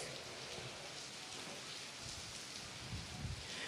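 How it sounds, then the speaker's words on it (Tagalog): Heavy rain and wind lash Santa Ana, Cagayan during Typhoon Krising, a dense, continuous hiss of pouring rain with low gusty rumbles, steady and loud throughout. "sa mga oras na ito ay nakakaranas ng malakas na ulan at hangin itong bayan ng Santa Ana sa Cagayan"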